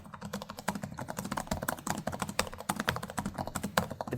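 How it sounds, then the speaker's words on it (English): Fast, even typing on the keyboard of an HP OMEN Transcend 14 gaming laptop (2025), crisp close key clicks in a steady stream, alone and fairly quiet. "As for the actual typing experience,"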